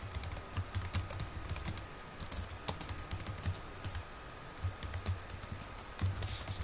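Quiet, steady typing on a computer keyboard with irregular clusters of key clicks and brief pauses, someone entering Java code alone without speech.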